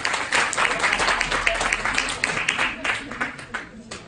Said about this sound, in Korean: 우리 서울외고 좋은 학교들한테서 다 같이 박수 한번 쳐볼까요?